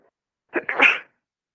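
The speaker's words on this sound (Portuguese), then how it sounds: "Desculpa, eu espirrei." A single sharp human sneeze bursts out close to the microphone, breaking a quiet moment in a drawing lesson, with a short breathy intake just before the loud burst.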